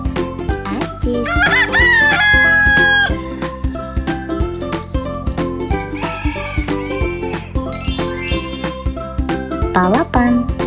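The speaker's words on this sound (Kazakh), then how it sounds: "Әтеш." A rooster crows in long rising calls laid over loud, rhythmic jingling music, part of a sequence of farmyard and wild animal calls.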